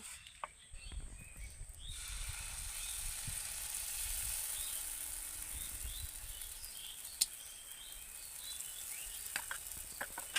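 Semolina batter for chitoi pitha poured onto a hot, oiled pan, setting off a steady hiss of sizzling after a short quiet start, with faint scattered crackles and ticks over a soft kitchen background.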